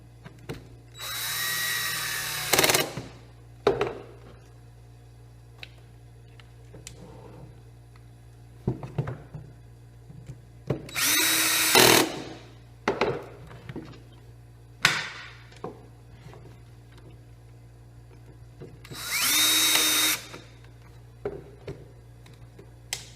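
Stanley FatMax cordless drill whirring in three bursts of a couple of seconds each, separated by clicks, taps and handling noises.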